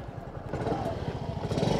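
A Yamaha Fascino 125 Hybrid scooter engine idles with a soft, steady low putter, close by and fairly quiet, with no talking.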